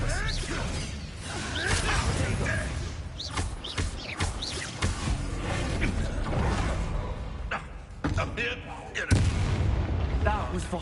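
A duel in the video game Hogwarts Legacy produces a dense, continuous run of magical blasts, whooshes and crackling impacts, with a voice shouting spell names over the noise.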